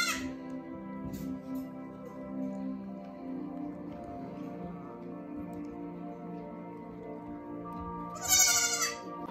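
Baby goats bleat at a farm, repeated calls under a steady background hum, with a louder, closer burst of bleating near the end.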